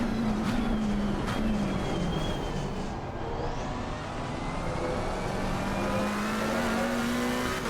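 A BMW race car in Assetto Corsa Competizione, in an online race at Monza, drives with a continuous loud engine note that rises and falls through gear changes, and tires squeal now and then.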